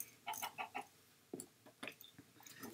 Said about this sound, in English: Chickens, get out of here!